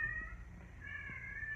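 A cat meows inside a concrete room on a farm in Lipa, Batangas, giving two drawn-out, faint cries with a low rumble underneath.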